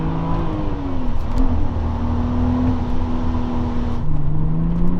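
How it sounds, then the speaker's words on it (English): A 6-speed BMW hatchback engine with factory exhaust hums and revs with a steady droning exhaust note, pitch rising and falling slightly, close and fairly loud. "Even the exhaust in factory form just has a phenomenal tone to it."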